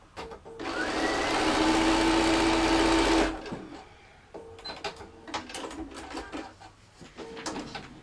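A sewing machine stitches fabric pieces together in one fast, whirring run lasting about two seconds, loud and close, then stops, followed by quieter handling clicks and rustles.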